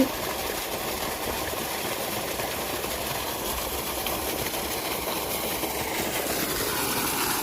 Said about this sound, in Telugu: మోటార్ ఆన్ అయింది